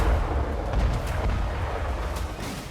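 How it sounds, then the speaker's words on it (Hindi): Heavy, rumbling booms from Russian Geran-2 drone strikes in a war zone, a dense continuous low roar with repeated blasts rolling together, loud and distant-sounding, with no voices. "रूसी गैरान-2 ड्रोन के धमाके,"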